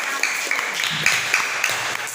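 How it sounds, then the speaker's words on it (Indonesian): A class of students in Palu applauds the first group after a presentation, with brisk clapping and a few sharper accents over about two seconds. "Oke, tepuk tangan dulu untuk kelompok 1."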